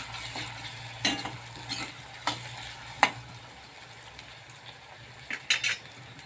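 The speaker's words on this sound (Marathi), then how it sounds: "मी आता हिरवी मिरची, आलं, लसूण आणि कोथिंबीरची थोडीशी पेस्ट घालत आहे" Coarse green chilli, ginger, garlic and coriander paste stirred into a frying pan, a low steady sizzle punctuated by sharp clinks and scrapes of a spoon against the pan.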